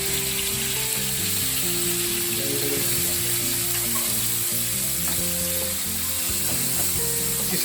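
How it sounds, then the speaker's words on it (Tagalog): Onions and ground pork sautéing in a pan for kimchi fried rice, a loud, continuous sizzle and crackle with occasional stirring scrapes, close and steady throughout. "Ilagay mo ng onions. Gisahin mo."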